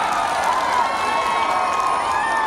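Loud, steady crowd noise with cheering and applause from an audience at the Karnali Expo, filling the whole moment without a break after a stage performance.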